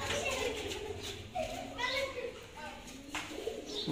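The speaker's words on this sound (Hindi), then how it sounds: "सियालकोटी कबूतर" Sialkoti pigeons coo softly nearby in short repeated calls, mixed with voices and children in the background while someone talks over them.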